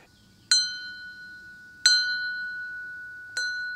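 A mud motor exhaust pipe is struck three times, each hit ringing out like a bell with a clear sustained tone that slowly fades before the next strike.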